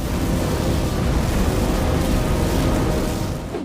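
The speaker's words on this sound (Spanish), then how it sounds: "Zenobio encendió un paquete de dinamita, pero fue absorbido por el tornado y murió en la explosión." A dynamite explosion sound effect: a loud, sustained rumbling roar with dense low-end boom that holds steady for several seconds before tapering off at the end, with no voices.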